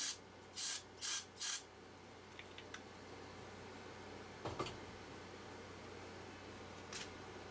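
Three short hissing bursts of fluid sprayed into the carburetor of a small go-kart engine, close and distinct in quick succession, followed by faint quiet and a couple of soft clicks.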